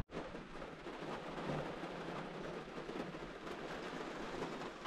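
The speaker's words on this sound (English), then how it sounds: "It's the sound of rain in a motorhome late at night." Dense, steady hiss of heavy rain drumming on the roof of an Airstream motorhome at night, broadband and constant, with no voices.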